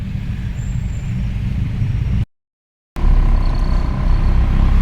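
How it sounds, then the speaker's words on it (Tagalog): Heavy evening rush-hour traffic on Batasan–San Mateo Road, with buses and trucks rumbling and droning loudly nearby, a faint whine overhead and a brief dropout mid-clip before the engine noise resumes. "At ngayon nga ay sobrang traffic ngayon mga gawiks sa ganitong oras, 5:30."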